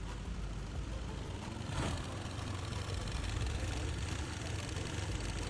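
A scooter engine idles close by with the CVT removed, a low continuous rumble with even mechanical chatter and no other sounds.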